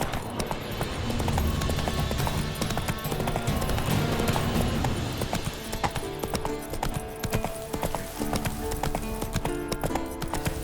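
Roach the horse gallops in The Witcher 3, hooves pounding in a steady rapid clip-clop that carries through the whole stretch, loud and close, with a faint whinny amid background game sounds.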